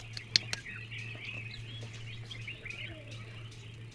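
Birds chirp and twitter faintly in the Nilgiri hills, with thin, scattered calls running through the whole stretch over a steady low hum and a few sharp nearby clicks.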